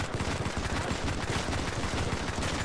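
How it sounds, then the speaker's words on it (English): Rapid gunfire from Modern Combat 5 in a battle royale match, dense bursts of automatic shots firing almost continuously, loud and close throughout. "hold on, there's someone shooting"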